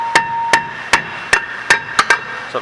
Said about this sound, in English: I'm going to have to hammer this one off